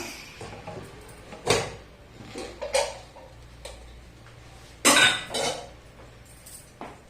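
A pressure cooker lid being opened after the pressure is released, with a few sharp metallic clicks and clinks. Two louder clatters stand out over a quiet background.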